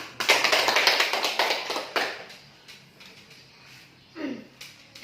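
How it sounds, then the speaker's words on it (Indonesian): A group in a classroom claps hands together in a brisk burst lasting about two seconds, followed by a few faint scattered taps and a brief voice near the end. "Tepuk tangan, Bu."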